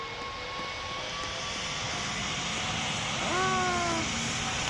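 Jet engines of an Airbus Beluga XL roar steadily at a distance at Greater Rockford airport, a broad continuous rumble with whining tones that swell and shift near the end.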